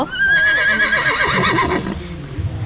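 A zebra at a Hua Hin safari park feeding area gives a loud, close, wavering whinny lasting under two seconds, followed by faint rustling.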